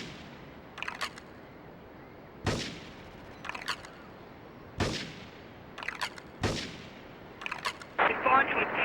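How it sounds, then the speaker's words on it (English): Gunfire and explosions in Grand Theft Auto 3 on PlayStation 2: four sharp heavy blasts spaced a second or two apart, mixed with bursts of rapid shots and a crackling clatter at the end. "Investigating reports of gunfire and explosions."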